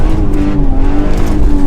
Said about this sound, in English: This car spins. You can see that it slides out.